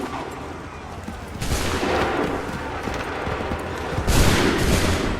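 Musket volleys in Assassin's Creed III: two broad, crackling bursts of massed fire, the second a bit louder, break over a steady low rumble of battlefield background.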